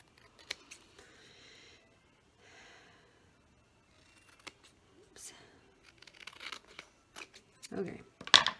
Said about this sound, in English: I'm just going to trim around the edges of this.